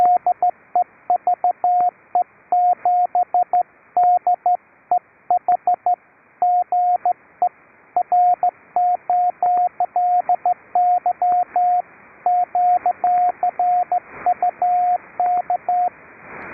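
Morse code CW signal on an amateur radio net around 3729 kHz, a steady keyed tone in rapid dots and dashes with brief pauses between characters, sounding over faint receiver hiss.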